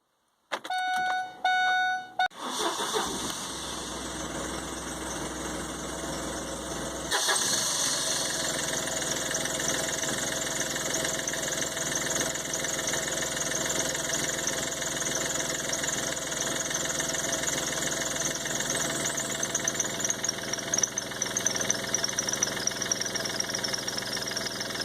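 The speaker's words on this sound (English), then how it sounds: "So I'm going to start the car, let it run for probably 30 seconds, let the oil flow through the motor" A 2006 Smart ForTwo CDI just after an oil change: a few chime beeps, then the engine cranks and catches, settling into a steady, slightly rough idle that grows a little louder and continues unbroken.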